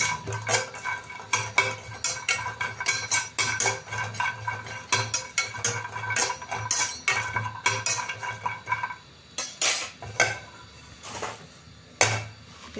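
Dried coconut being heated and stirred in a pan on the stove, a spoon scraping and clinking against the metal in quick, irregular bursts, close and clear with no talk.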